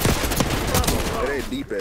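Rapid gunfire bursts in the Call of Duty game Black Ops 6, loud and close, clustered shots layered over busy in-game noise with a voice faintly in the mix.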